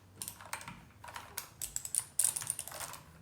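Keys clack on a gamer keyboard, a close, quiet run of irregular clicks and bursts of several presses at once, with no talking.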